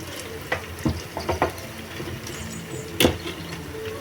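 Rice flour bonda fry in hot oil with a soft, steady bubbling sizzle, punctuated by a few brief clinks and scrapes of a utensil; no one speaks.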